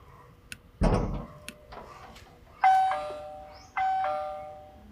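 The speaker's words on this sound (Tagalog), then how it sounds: "Tayo na magdo-doorbell guys." A two-tone doorbell chime rings twice, each ding-dong ringing out clearly after a short rustle and a few faint clicks nearby.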